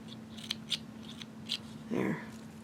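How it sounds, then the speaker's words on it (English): Small scissors snip threads on a handmade sequin Christmas tree ornament, a few quiet, crisp clicks spaced apart, followed by a brief soft rustle, close and faint against low room hum. "I might trim that just a tiny bit more. But I want to be real careful because you do not want to cut those threads at all."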